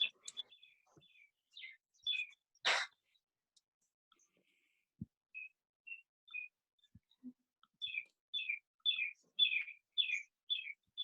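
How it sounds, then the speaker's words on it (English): Small birds chirp in repeated short bursts throughout, clear and fairly close, heard in the background during an online art reception video call with no talking over them. "Someone has birdies in the background."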